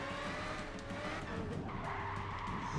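A car in the racing game Gran Turismo 5 skids hard after the e-brake is pulled, a loud sustained tire squeal over a revving engine lasting the whole moment.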